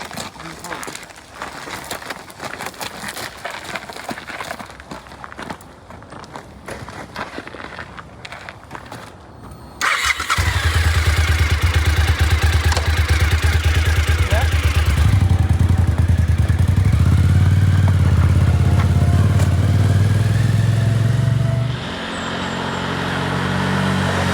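Suzuki TL1000S motorcycle engine fires up about halfway through after a quieter stretch of background noise, then runs loud and close with a deep steady idle and a few revs.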